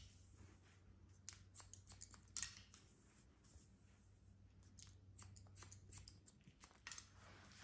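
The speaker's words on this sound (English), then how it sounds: "Those shears are going." Hair-cutting shears snip through permed curly hair during a bob haircut, rapid close crisp clicks in uneven runs against a low steady hum.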